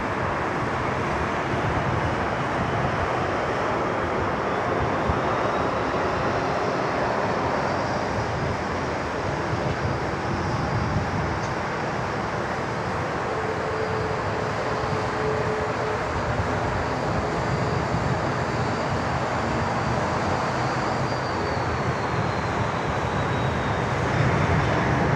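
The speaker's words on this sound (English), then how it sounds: "about to touch down here on runway 34 left" A United airliner lands on runway 34 left at Sydney Airport, a broad, sustained jet roar heard from some distance with a slowly shifting whine, steady and unbroken over about twenty-five seconds.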